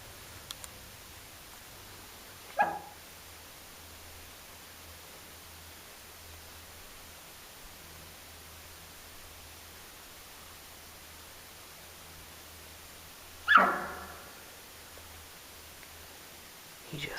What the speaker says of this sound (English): there is an elk down there barking